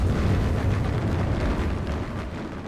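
A deep, rumbling artillery shell explosion in the WWII strategy game Gates of Hell, a loud sustained boom that rolls on and slowly fades over a few seconds.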